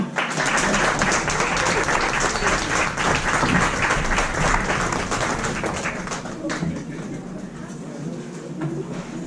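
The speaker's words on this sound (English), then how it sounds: "Let's give it up for another round of applause for her." An audience at an arts exhibit event claps and applauds steadily for several seconds, the clapping thinning out slightly toward the end.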